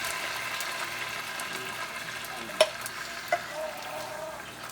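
About two cups of jarred salsa cooking in a hot pan, a soft steady sizzle with a couple of light clicks from a spoon scraping and stirring.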